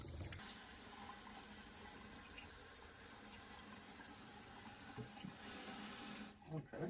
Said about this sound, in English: You can see it squirting out right there.